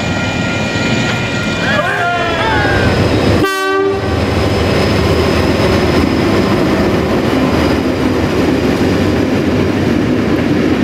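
Diesel locomotives DI1102 and DJ1209 haul a train from Dunedin toward Waitati, banked by DJ 1221 and 1222, with a loud horn blast in mid-clip over a steady rumbling roar and faint clicking, close and continuous throughout.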